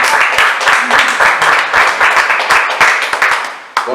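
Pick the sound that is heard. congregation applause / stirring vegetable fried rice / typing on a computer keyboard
congregation applause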